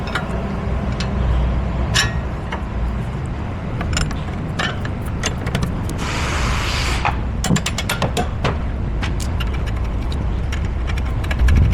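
An impact gun on setting 1 runs up U-bolts on a Mercedes Sprinter during an Agile Off Road RIP kit install, with a short hammering burst among steady mechanical clicking and rattling nearby.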